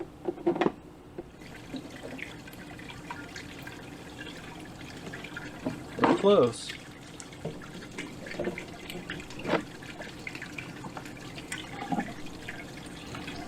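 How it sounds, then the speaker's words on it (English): Water splashes and trickles through a 3D printed hydroponic garden, a steady low flow with a louder burst of splashing near the middle, and a brief spoken remark early on. "we're getting quite a bit of splashing"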